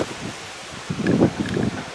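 Gusty outdoor wind buffets the microphone with a low, rumbling rush that swells toward the end of a short stretch.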